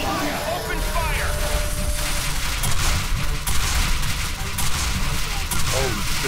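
Gunfire in the video game Quake 4, a sustained rattle of rapid weapon fire with booming impacts, loud and constant throughout, with voices calling out under the shooting.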